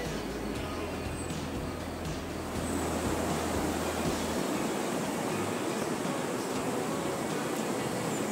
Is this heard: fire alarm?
no